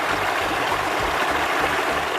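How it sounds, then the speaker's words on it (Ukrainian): Flowing river water, a broad stream rushing steadily and loud at close range, with no one speaking. "Так, річка широка і величка."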